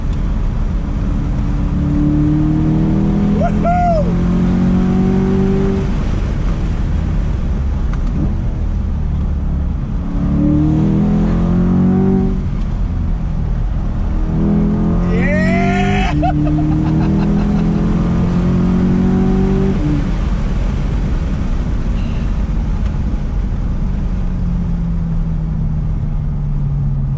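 A Chevrolet C8 Corvette Z51 convertible accelerates hard, its engine note climbing through repeated gear pulls with brief dips between shifts, loud and continuous from inside the car.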